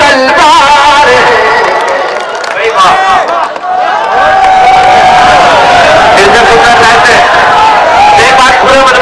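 A loud, dense crowd at a live gazal recital by Asad Bastavi claps and cheers, a continuous roar of applause and shouts that dips briefly before swelling again.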